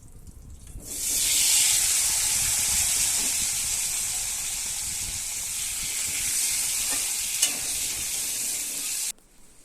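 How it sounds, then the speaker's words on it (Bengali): Potatoes frying in oil for a jackfruit and prawn curry, a loud sustained hiss and sizzle that starts abruptly, holds steady for several seconds, then stops. "এবার আরেকটু তেল দিয়ে দিব এবার আলুটা ভেজে নেব"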